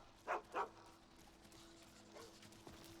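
A puppy in a video game gives two short, quiet barks in quick succession, followed by faint clopping and shuffling in the background.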